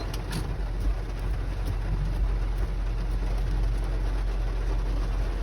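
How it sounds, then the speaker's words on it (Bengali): Rain falls steadily in Canada, an even, continuous hiss with no breaks and no voices over it. "কি বৃষ্টি আর কি ঝড়"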